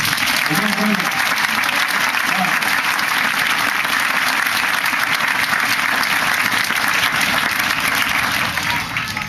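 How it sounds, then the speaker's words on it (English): A crowd at an Urbandale campaign rally applauds the organizers, giving loud, sustained, dense clapping with a few cheers that runs almost the whole time and fades slightly at the end. "Give our two organizers a big round of applause."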